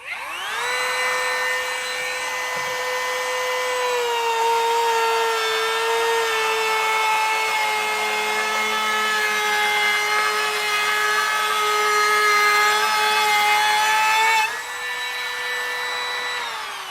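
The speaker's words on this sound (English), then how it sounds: "So now we've got a piece of oak in here. And again, got a pretty large round over bit here." Kobalt 24V brushless compact trim router at speed 6 cutting oak with a large round-over bit, a loud steady high-pitched whine with a slight dip under load, then easing near the end, close and continuous.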